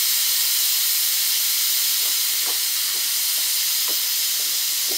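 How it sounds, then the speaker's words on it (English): Steady hissing rush of steam escaping from a pressure fryer during rapid pressure release while frying chicken, a continuous broad hiss with a few faint sputters, fairly close. "Let our pressure out, rapid release."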